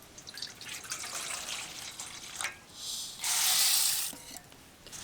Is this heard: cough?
no